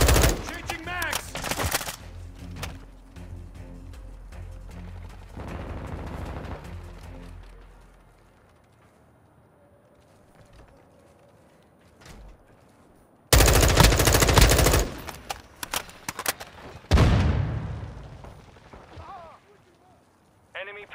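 Bursts of automatic gunfire in Call of Duty: Modern Warfare 2, loud and dense, come in several volleys with quieter pauses between, and voices speak over the action.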